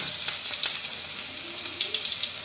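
Onions sizzle and crackle steadily in hot oil for a cabbage dish, a close, continuous frying hiss with occasional stirring.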